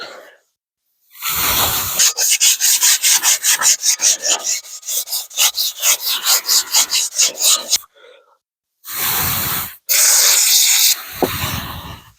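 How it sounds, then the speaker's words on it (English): Sandpaper rubbing rust off the inside of a metal part during wheel bearing work, a rapid series of rhythmic scraping strokes up close, pausing briefly before two more short bursts of rasping. "I'll hit the inside with a little bit of sandpaper real quick to get the rust off."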